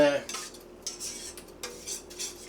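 A utensil stirs Amish egg noodles in a pot with a peppery sour cream sauce. It gives a few soft metallic clinks and scrapes spaced under a second apart, close and fairly quiet, with no talking.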